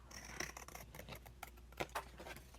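Scissors snip a small angle into paper for a handmade autumn journal, a few quiet crisp cuts close by, with soft handling rustles between them and no voices.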